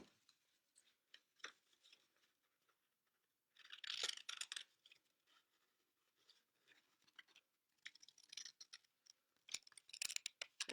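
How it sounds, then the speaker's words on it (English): Scissors snip through paper to cut out two small triangles for a craft project, making quiet, crisp bursts of cutting strokes with brief pauses between, close up, with no one talking. "I am going to cut out my triangles."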